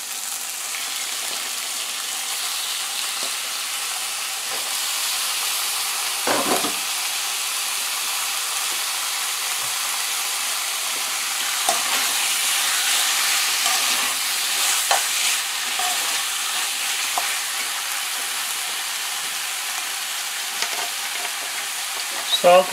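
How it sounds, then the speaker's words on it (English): Shrimp sizzle and fry in a pan of prawn curry, a steady broadband hiss running throughout with a few louder stirring scrapes and bursts, close and continuous with no talking. "Now time to add our shrimp here."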